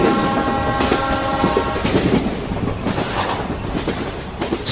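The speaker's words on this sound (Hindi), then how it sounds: "स्टेशन आ गया है, लेकिन ये रेल रोक क्यों नहीं रहा है?" A train runs through a station without stopping, a loud, close rumble with rhythmic rail clatter and a sustained horn tone at the start, plus some wind buffeting, with no talk.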